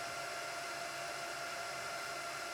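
A Supermicro SuperServer SYS-E300-9D compact server runs its power-on self-test, giving a steady, loud broadband whoosh of small fans spinning at full speed with faint tonal whine, continuous and even throughout.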